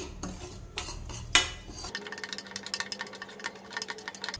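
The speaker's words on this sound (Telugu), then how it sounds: "ఇలా కలుపుతూనే ఉండాలి, లేదంటే అడుగంటుతుంది." A spoon scrapes and clinks against a pan as semolina (rava) is stirred while roasting until brown for rava laddu, giving a quick run of close, light metallic taps and scrapes.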